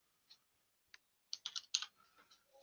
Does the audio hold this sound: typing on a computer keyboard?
yes